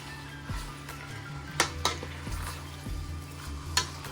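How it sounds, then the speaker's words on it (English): Pork belly is stirred quickly in a pan, with soft scrapes and a few light clinks of a utensil against the pan over a faint sizzle, quiet and close. "A quick stir"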